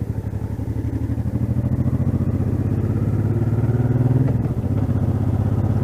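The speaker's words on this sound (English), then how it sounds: "because the bike's very noisy" A Honda Deauville motorcycle engine runs loud and close with a steady pulsing, throbbing rhythm, rising slightly before easing off.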